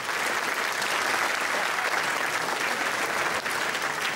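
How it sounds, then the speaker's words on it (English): Studio audience applauding animals and their handlers on a comedy panel show, a steady dense wash of clapping that holds at full strength throughout with no voices over it. "Give them a round of applause."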